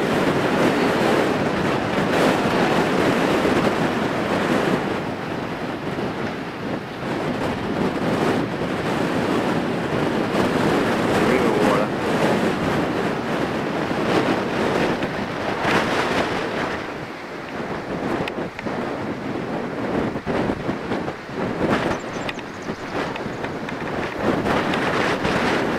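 Ocean surf pounds steadily where a river flows out into the sea, a dense continuous roar of breaking waves mixed with heavy wind buffeting the microphone, loud and unbroken throughout.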